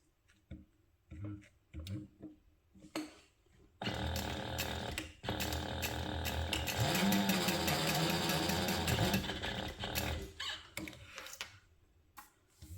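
A domestic sewing machine bastes a folded fabric strap tab for a crossbody waist bag, running in one steady, close whirring burst of several seconds between softer handling clicks and rustles.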